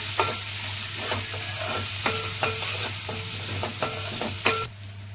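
Green chillies and curry leaves fry in a pan with onion pieces, giving a steady sizzle, with a spatula scraping and stirring in sharp repeated knocks and scrapes, close and loud, no talking.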